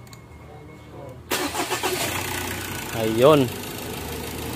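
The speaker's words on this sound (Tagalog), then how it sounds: "Try na natin tong paandarin kung andar na ba." A Ford Everest Titanium SUV engine cranks and starts after a quiet pause, settling into a steady near idle with a rough rumble, while a voice speaks over it.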